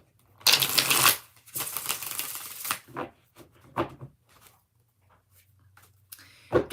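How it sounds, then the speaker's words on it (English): Tarot cards are shuffled close up in several bursts, crisp riffling and flicking, followed by quieter taps and handling of the deck. "2 more shuffles."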